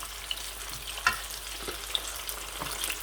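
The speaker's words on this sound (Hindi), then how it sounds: "आप देख सकते हैं स्टिक्स हमारी जो है वो पकना शुरू हो गई हैं" Chicken wing sticks fry in hot oil, giving a soft, steady sizzle broken by scattered little pops and crackles, close by and fairly quiet.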